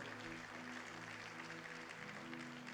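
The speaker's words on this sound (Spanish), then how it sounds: "Hazlo más fuerte ese aplauso al Señor." Church congregation applauding during a worship service, a faint, steady wash of many hands clapping continuously with no pauses, distant and low in level beneath a low hum.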